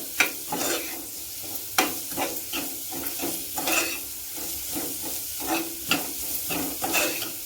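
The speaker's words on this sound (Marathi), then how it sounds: "कांदा जरा चांगला भाजला पाहिजे" Onions frying in oil over high heat for a potato tomato curry, a continuous close sizzle with repeated sharp spatula scrapes against the pan at an irregular rhythm.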